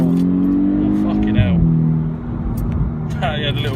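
A 2010 Volkswagen Golf MK6 R with a DSG gearbox gives a short exhaust blip and rev change close by, with a dropping engine note and people talking over it.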